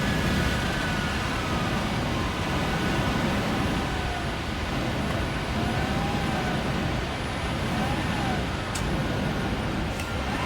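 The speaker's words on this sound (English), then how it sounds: "There's sirens outside." Sirens wail in the distance outside, faint rising and falling tones heard under a constant broadband hum.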